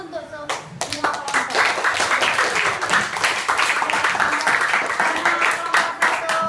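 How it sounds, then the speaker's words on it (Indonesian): A class applauds all the student groups in a maths lesson, a burst of close, bright clapping from many hands that holds steady after a brief voice at the start. "Tepuk tangan dulu untuk semua kelompok"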